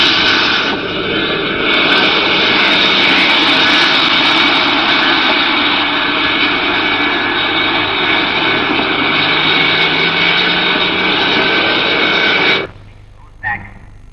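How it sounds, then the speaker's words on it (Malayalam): An Indian Airlines jet airplane departing for Bangalore drones loudly and steadily with a close, roaring engine sound for about twelve seconds before cutting off abruptly to near quiet. "Indian Airlines announces the departure of flight IC530 to Bangalore."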